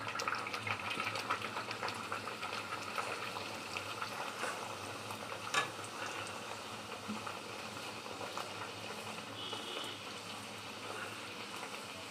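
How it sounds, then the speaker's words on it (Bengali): Bhatura deep-fries in hot oil, giving a soft, steady bubbling sizzle with faint crackles, low in level and continuous without pauses. "তো এবার আমি তোমাদের একটা ভাটুরা ভেজে দেখাচ্ছি, দেখো কেমন হয়।"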